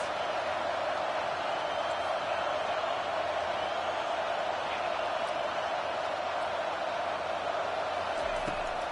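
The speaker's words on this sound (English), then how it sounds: "This crowd trying to make life miserable for this offense." Stadium crowd at a Kentucky college football game, a steady wash of roaring fans at moderate distance that holds level throughout, with faint commentary underneath.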